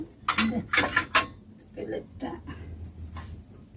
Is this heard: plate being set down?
yes